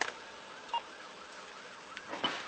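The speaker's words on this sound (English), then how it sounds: "Shut your sirens down." Police car sirens during a Pasco County Sheriff's response to a shooting, a faint, distant wailing tone rising and falling steadily throughout, with a few brief sharper sounds near the start and end.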